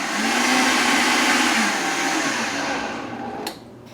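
A Vitamix blender purees fruit with the skins left on, a loud, steady high-speed whir that holds for about three seconds, then cuts off abruptly as the motor stops.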